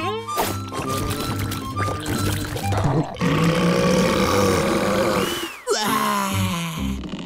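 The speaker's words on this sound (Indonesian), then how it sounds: "Nenek Pence bilang bersendawa adalah tanda internasional bahwa kamu menikmati makananmu" A cartoon character lets out a long, loud, drawn-out burp with rough, grunting, gurgling tones, close and dominant, then a second burp after a brief pause.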